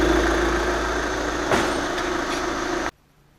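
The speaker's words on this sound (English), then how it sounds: "this morning I'm doing a cold start" A 2011 Volkswagen Jetta TDI diesel with about 185,000 km idles steadily right after a cold start, a loud, even engine drone heard up close and alone before it cuts off abruptly near the end.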